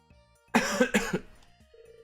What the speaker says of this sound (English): it's very hard to clear my throat when I'm playing the game